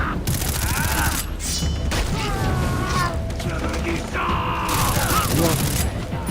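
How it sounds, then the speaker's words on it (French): Gunfire crackles in the video game Far Cry 3, with dense bursts and booming shots under a continuous loud wash of game noise. A voice talks over parts of it. "Je tire n'importe où."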